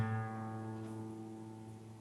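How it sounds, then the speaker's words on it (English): A single sustained plucked guitar note, A5, rings out cleanly and slowly fades, with a bright harmonic-rich tone and no other sounds. "If I play that on the guitar, it sounds like this."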